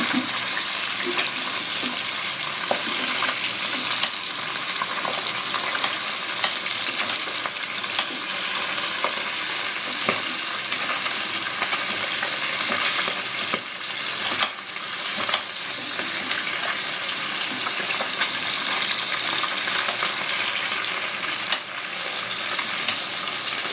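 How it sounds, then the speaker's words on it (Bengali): Steady, loud sizzling of flipped pabda fish frying in hot oil, a dense continuous crackle with occasional sharper pops and no voices. "উল্টে নেব মাছগুলোকে"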